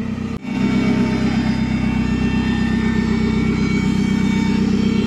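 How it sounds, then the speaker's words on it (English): A Commer 2.3 Turbo running with a faulty fuel pump, a steady high whine sitting over a constant low engine drone after a brief dropout at the start, heard close and continuous with no talking. "It is the fuel pump."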